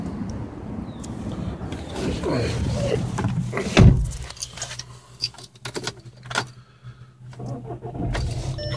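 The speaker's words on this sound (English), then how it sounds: "Car starts right up." A 2010 Volkswagen TDI diesel with a DSG gearbox cranks and fires with a sudden loud burst, then settles into a low, steady idle, with faint clicks and interior noises before and after.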